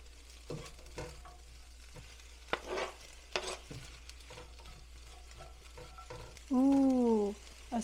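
Cabbage is stirred in a hot pan with a soft sizzle and scattered scraping clicks. Near the end a brief tonal squeak rises above the frying, with no talking.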